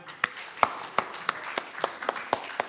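Sparse clapping from a church congregation: about a dozen separate, crisp claps at uneven intervals over a quiet room, faint and somewhat distant, with no sustained applause building up.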